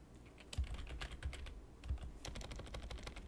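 Keys clatter on a computer keyboard in quick irregular bursts, close and clear, with a few heavier thumps between runs of typing.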